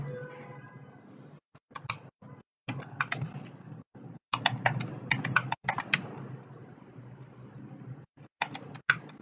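Someone types on a computer keyboard while entering text into Word. Close, irregular clacking keystrokes come in quick runs separated by brief silences.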